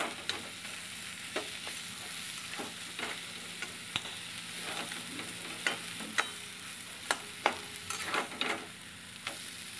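Lote fish jhuro is stirred and fried in a wok over low heat, a soft steady sizzle broken by repeated scraping strokes of the spatula that grow a little louder toward the end, with no voices.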